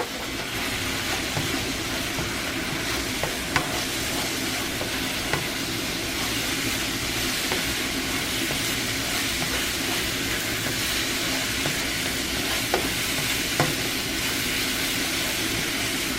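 Dark soy sauce sizzles and fries in a pan while being stirred for Philippine-style pancit, a steady dense crackling hiss with occasional small clicks, loud and continuous with no talk.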